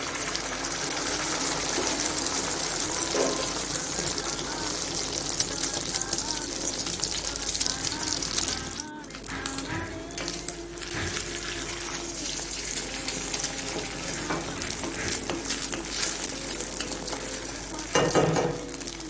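Quail eggs fry in oil in a pan with a steady, busy sizzle that runs the whole time, mixed with scraping stir noises and a brief dip partway through.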